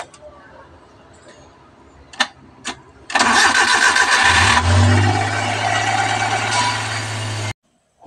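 A few faint clicks, then a starter cranks and a DA62T engine catches after an oil change, settling into a loud steady idle before stopping abruptly.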